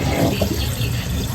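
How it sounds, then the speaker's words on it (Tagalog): A Panasonic automatic washing machine's drain motor pumps water out, a steady rushing, gurgling flow with a low hum underneath, close and continuous without talk. "So yan, umihila na yung drain motor niya."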